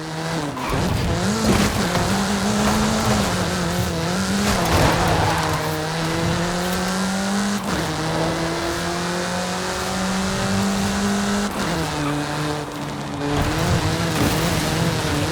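A Volkswagen car in Forza Horizon 5 drives fast, its engine revving up through repeated gear shifts with rising and dropping pitch, accompanied by tire squeal, loud and close with no talking.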